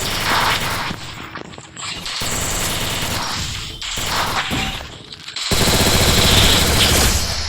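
Gunfire in the mobile battle game Free Fire: dense, continuous bursts of automatic shots and impacts, loud and sustained throughout with brief gaps between volleys, no voices.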